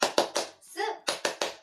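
A class performs a 'tepuk semangat' cheer, three sharp claps, then a short voiced call, then three more claps in an even rhythm, close and crisp.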